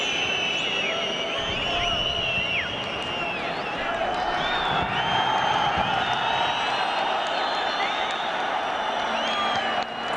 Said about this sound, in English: The crowd are very restless. They're desperate for a goal.